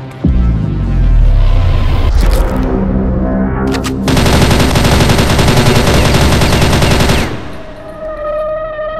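Loud gunfire in the game GTA V: a single heavy shot, a pause, then a long sustained burst of rapid automatic fire that stops abruptly and leaves a ringing, echoing tail.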